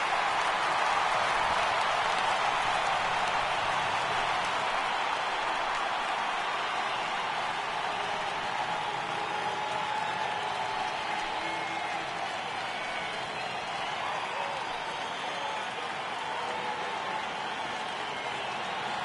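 Ballpark crowd at a FASTball game between RVA Brothers and Corky Millers rising for a 3-2 count, a steady broad wash of cheering and applause held for the whole stretch, moderately loud and continuous with no clear talk above it.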